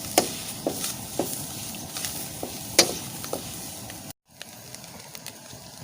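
Soya beans with grated coconut frying in a pan for soya bean sukka, a soft steady sizzle broken by a few sharp stirring clicks, close and fairly quiet, with a brief cut near the end.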